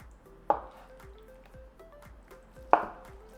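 A knife cuts through a block of tofu on a cutting board, with two distinct chopping thuds spaced about two seconds apart and faint clicks in between, close and moderately loud, with no talking.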